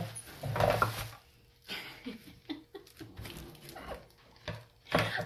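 Dog whimpering and whining near its crate indoors, in short uneven bursts with scuffling and pattering between them, close by.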